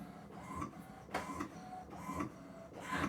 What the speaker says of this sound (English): Printing, this should be a little color photo here, like a waterfall thing.